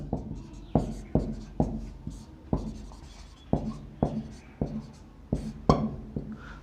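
Chalk tapping and scraping on a board during a Class 12 maths lesson, a rhythmic series of sharp strokes about every half second, close and fairly quiet, with no talk over it.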